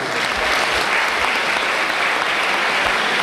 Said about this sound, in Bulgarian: Моля вашите аплодисменти за участниците.